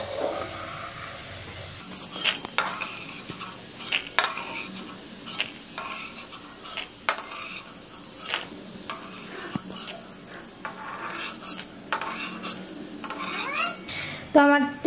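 Peanuts frying in hot oil in a home kitchen for chowmein and being lifted out of the pan: a steady close sizzle broken by sharp metallic scrapes and clinks of a spoon against the pan, with no talk.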